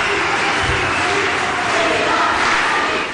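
A large audience at an international women's day conference in Paris applauds and cheers for Maryam Rajavi, a dense, continuous roar of clapping and voices filling the hall.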